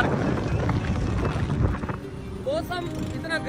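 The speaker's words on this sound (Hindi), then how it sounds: "हवा चल रही है" Wind gusts across the microphone during a bike ride through Muzaffargarh city in Pakistan: a steady, broad rushing roar that eases slightly near the end, with faint tonal sounds over it.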